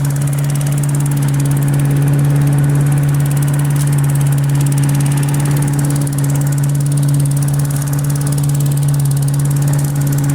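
An old junk lawn mower engine runs at high idle with a steady, loud, unbroken drone and a constant low hum, close by, with no talk.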